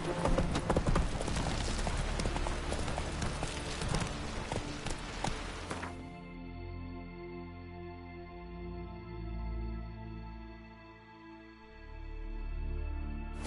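The horse Roach moving at speed in The Witcher 3, with rhythmic hoof clip-clop loud at first that then gives way to sustained tonal game music for the rest.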